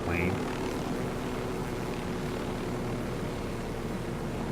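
Helicopter in the video game Ghost Recon Wildlands flying with a steady, dense rotor-and-engine roar that holds evenly throughout, loud and continuous with no pauses.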